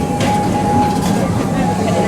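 Serengeti Express park train at Busch Gardens rolling along its rails through a curve, a steady close rumble with faint clatter filling the whole stretch.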